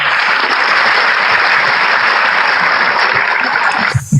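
Loud, dense applause from a studio audience during a talk show, sustained clapping that fills the room and then cuts off abruptly near the end.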